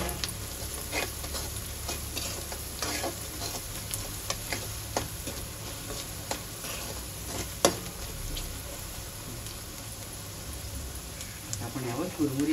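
A mustard-seed tempering for puffed-rice poha sizzles steadily in a pan while it is stirred, with scattered ticks and crackles and occasional scrapes of the spoon over the constant frying hiss.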